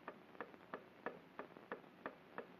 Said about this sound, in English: What's that ticking?